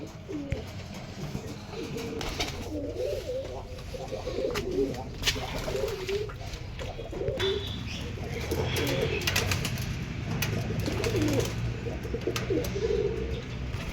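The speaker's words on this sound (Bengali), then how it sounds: "এই পায়রাগুলো আমার সব জোড়া লাগানো আছে" Domestic pigeons kept in pairs at home cooing, repeated soft throaty coos from several birds close by, with occasional chirps and faint background noise.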